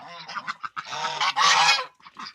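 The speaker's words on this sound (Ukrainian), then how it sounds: "Ось той гусак мені взагалі не подобається" Loud, nasal honking from geese, several overlapping calls in quick, uneven bursts, close by with no talking.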